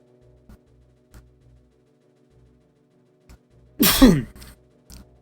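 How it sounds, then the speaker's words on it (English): A single loud sneeze from a person bursts out near the end, after several quiet soft breaths and small sounds, followed by a brief exhale. "It wasn't as bad as it sounded. I was just sneezing."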